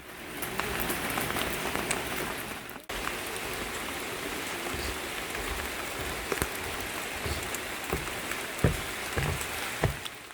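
Steady rain pours down continuously over a metasequoia forest recreation area, with scattered heavier drops tapping nearby surfaces; a brief dip partway through, then the downpour carries on unbroken.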